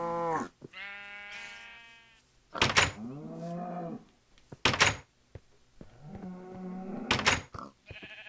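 Sheep in the Minecraft video game bleat in several drawn-out, wavering calls, close and clear, with short gaps and a few soft thuds between them.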